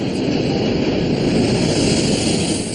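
A Fokker F-28 jet airliner takes off in winter conditions at Dryden, Ontario, with a loud, steady, broadband engine roar that holds without a break.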